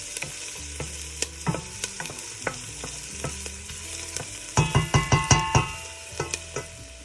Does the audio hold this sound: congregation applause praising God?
no